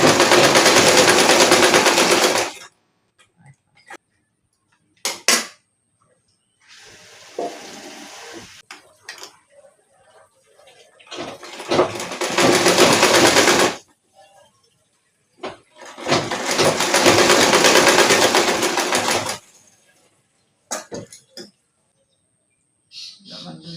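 Several bursts from a sewing machine stitching the side seam of a pajama, loud whirring runs of a few seconds each, separated by pauses with softer handling sounds and a little speech.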